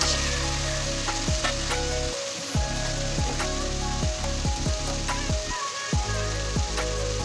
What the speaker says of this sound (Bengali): 2টা তেজপাতা দিয়ে এখন নাড়াচাড়া করে দিতেছি